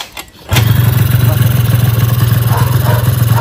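A 1990 Honda Dio AF-27 two-stroke scooter fires up after a brief clatter, then settles into a loud, steady, buzzing idle close by with no one talking.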